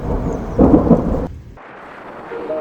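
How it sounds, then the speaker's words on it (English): Thunder rumbles loudly and rolls away during a thunderstorm with rain at night, its deep boom swelling and then fading into a softer wash of falling rain. No voices are heard. "I can still hear the thunder and the lightning still going off constantly."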